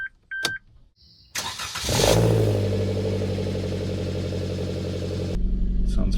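A Suzuki Jimny fitted with a Forge Motorsport exhaust starts for the first time: a few beeps and clicks, a short crank, then the engine catches and settles into a loud, steady idle rumble before a brief louder flare at the end.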